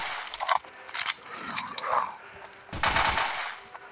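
Gunfire in the horror shooter Death Park 2, quick scattered shots and short bursts at moderate level, with a denser burst near the end.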